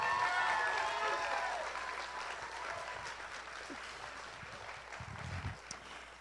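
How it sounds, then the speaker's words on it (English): A church congregation gives a round of applause that starts fairly strong and gradually thins and fades over several seconds, with scattered claps and murmurs near the end. "would you give Bruce a round of applause?"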